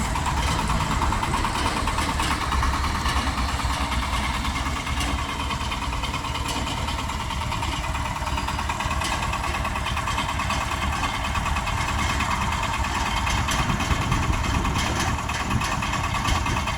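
A Shifeng SF 240 mini tractor engine runs during a test drive on a dealer's lot, a loud, steady diesel rumble with constant vibration throughout and no speech.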